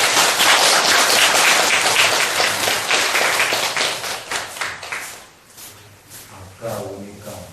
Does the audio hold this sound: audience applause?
yes